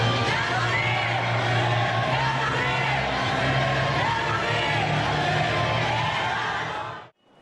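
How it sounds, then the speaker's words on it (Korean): A large crowd at a March 1st Independence Movement centenary flash mob cheers, whoops and applauds in a continuous loud roar that cuts off abruptly near the end. "환호와 박수로 그날을 기억해봅니다"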